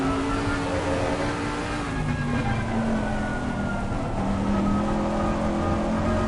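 Onboard race car engine in Assetto Corsa Competizione at Barcelona: a steady, sustained drone with shifting pitch through the lap, loud and continuous, no voices.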